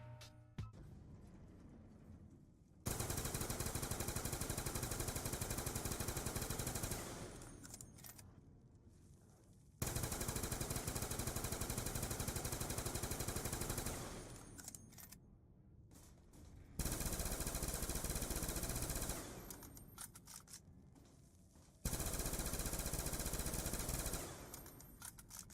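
AN-94 and Galil rifles in a video game fire loud, sustained automatic bursts in four separate blocks, with quieter reload clicks and handling noises in the gaps between them.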